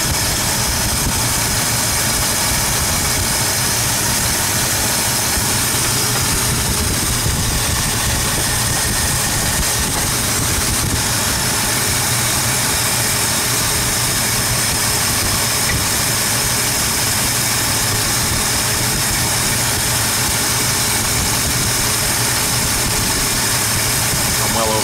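A small block Ford V8 idles steadily with its valve covers off while the valves are adjusted, its engine rumble loud and constant and close by throughout, with someone talking over it.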